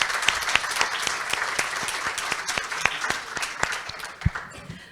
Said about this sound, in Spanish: Un aplauso, por favor, a nuestros interventores.